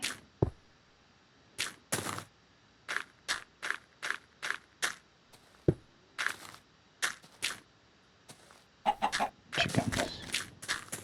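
Chickens in the Minecraft video game cluck in short, evenly spaced bursts, with a denser run of clucks and rustling toward the end and no talking.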